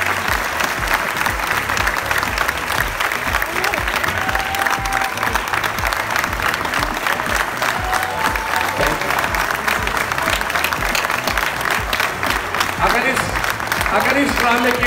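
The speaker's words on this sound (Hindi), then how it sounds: "अगर अच्छी लगे तो बहुत तालियां बजा दीजिए।" Sustained, loud theatre audience applause at a stage drama in Karachi, a dense continuous wash of clapping from a large crowd with faint voices mixed in.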